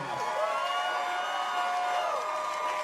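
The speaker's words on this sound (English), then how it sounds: "You're hearing the crowd get loud here in anticipation of the 5th and final round of our main event at Aries 23" Fight crowd at the Aries Fight Series 23 event swelling with loud, sustained cheering and whooping before the final round of the main event, a dense roar with no break.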